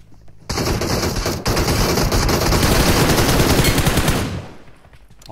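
Sustained automatic gunfire in PUBG Mobile, a loud close stream of rapid shots lasting about four seconds after a brief pause, then fading quickly.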